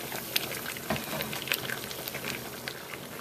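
A pot of water boils steadily, with a fine bubbling and popping texture and scattered small splashes, fairly close and fairly quiet, with no voices.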